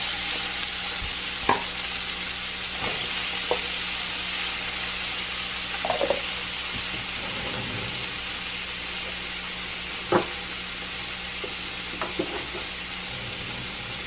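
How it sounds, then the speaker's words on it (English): Vegetables sizzling in a pot for chicken tortilla soup, a constant soft frying hiss with occasional scrapes and clinks of stirring. "So now you're going to add your vegetables."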